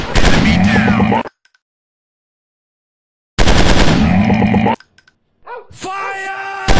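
Automatic gunfire from the Commando Run mobile shooter game on Android, loud rapid bursts in two stretches separated by silence, followed by fainter electronic game effects.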